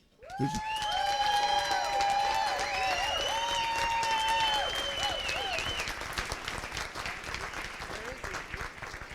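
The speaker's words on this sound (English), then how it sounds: "they're clapping" Loud, sustained applause from a Rotary audience greeting past district governor and Atlantic City mayor Don Guardian, with cheering and whoops rising over the clapping before it slowly thins out.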